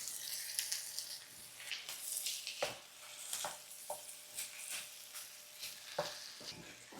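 Tomato paste is stirred into chicken and potatoes in a pan, with a spoon scraping and a soft sizzle running underneath. Irregular stirring strokes sound close and moderately loud, with no talking.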